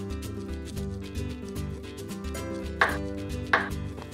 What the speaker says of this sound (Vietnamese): Các nguyên liệu được thái miếng vừa ăn